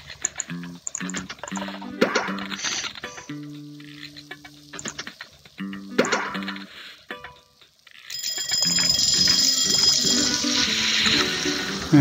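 A bell rings in the Papa's Pancakeria restaurant game, a bright sustained metallic ringing that takes over in the second half after stretches of cheerful game music with clicks and sizzles.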